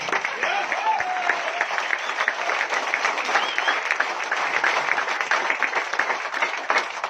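An indoor audience at a Hindi-language product talk breaks into loud, sustained applause, dense and even clapping that carries on without a break for the whole stretch.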